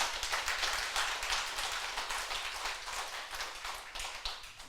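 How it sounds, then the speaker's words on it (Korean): A church congregation claps hard and fast together at an anniversary thanksgiving service in Busan, a steady rain of close hand claps that eases slightly toward the end, with no voices. "반드시 이렇게 이루어질 거면 힘차게 박수하세요"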